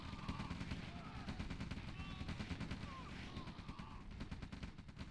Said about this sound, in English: Artillery is incoming also